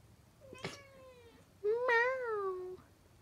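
An indoor cat meows twice close to the microphone, a short cry followed by a longer, drawn-out meow with no talking.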